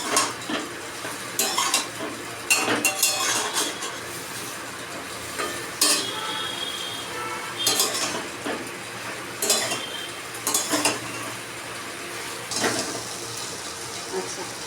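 Vegetables for sukto are stir-fried and scraped around a pan, with a steady sizzle broken by repeated clinks and scrapes of a spatula against metal.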